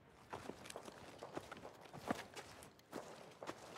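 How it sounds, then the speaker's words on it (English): Footsteps of a player moving nearby in the video game Battlefield 2042, a steady run of soft, fairly close steps with a quiet rustle of movement around them. "Oh, I heard footsteps close."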